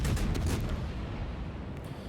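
Heavy gunfire from the Hindenburg cruiser firing HE shells in World of Warships, a deep booming salvo at the start that fades into a rumbling tail.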